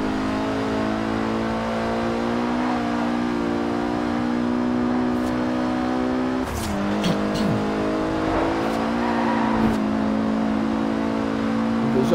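A Ferrari roars past in Forza Horizon 5, its engine a steady loud drone with a brief shift around the middle and rising revs afterward, heard alone without talk.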